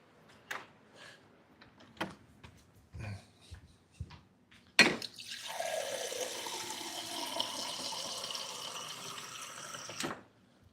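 A tap runs water steadily for about five seconds after some clattering handling sounds, then shuts off, heard up close in a bowling-ball drilling workshop.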